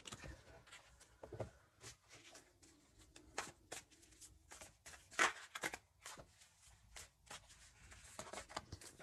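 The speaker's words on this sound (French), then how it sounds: "Je mélange bien les cartes." Playing cards shuffled by hand, a quiet close run of crisp riffles and taps with short gaps, heard alone without talk.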